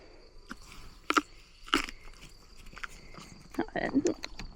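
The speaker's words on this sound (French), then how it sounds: "ça c'est un poney qui finit sa bouche avant de reprendre" Crunchy chewing of an apple by a pony, a few loud bites and grinding chews close by, with a person speaking softly in French in between.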